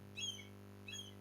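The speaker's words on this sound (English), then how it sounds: "in the background, you can hear some singing of the birds" Birds chirp outdoors, heard from inside a quiet living room as two brief, faint bursts of song separated by a pause over a low steady hum.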